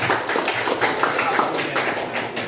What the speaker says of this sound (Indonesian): lebih tepuk tangan dulu kepada kelompok 2